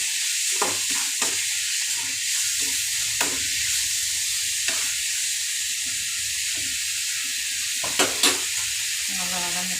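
Dried fish (karuvadu) sautés in a pan under a constant hiss of frying, with occasional sharp clicks and scrapes from a stirring utensil, close and with nothing else heard.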